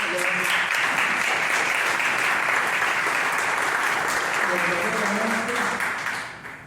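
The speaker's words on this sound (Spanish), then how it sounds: "Un aplauso, por favor." An audience at a book presentation applauds, a steady dense wash of clapping that holds strong for several seconds before tapering off, with faint voices underneath.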